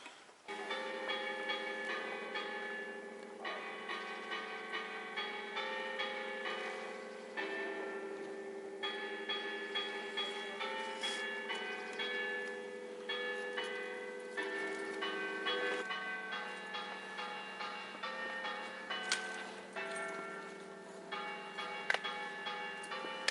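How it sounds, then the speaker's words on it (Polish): Church bells strike noon in a long, resonant sequence of overlapping strikes, moderately distant, with no voices over them. "Dzwony wybiły godzinę 12."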